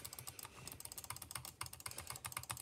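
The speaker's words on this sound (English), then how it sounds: "Next up is butterfly clicking." Rapid butterfly clicking on a computer mouse for Minecraft, two fingers alternating to produce a dense, fast, irregular stream of light plastic clicks, close and fairly quiet, with no talking.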